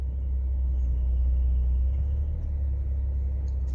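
A Porsche 911 4S Cabriolet's engine rumbles steadily at low pitch as the car moves forward, with a constant deep drone and no voices.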